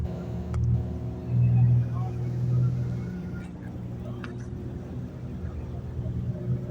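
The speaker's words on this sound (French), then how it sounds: "Ça, c'est la voiture de sécurité" A rally safety car driving past at a November rally near Vinça, a moderate engine rumble that swells briefly and fades at a distance, with people chatting nearby.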